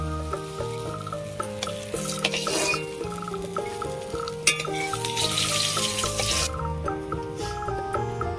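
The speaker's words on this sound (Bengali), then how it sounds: "বেগুন এমন করে ভাজতে হবে যাতে বেশি সিদ্ধ হয়ে না যায় গোটা থাকে" Eggplant pieces fry in oil for a Bengali vegetarian meal, giving a close, crackling sizzle with stirring and clinks of utensils. A faint tonal hum sits steadily in the background, and there is no talk.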